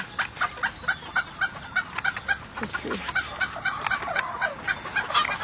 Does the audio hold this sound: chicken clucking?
yes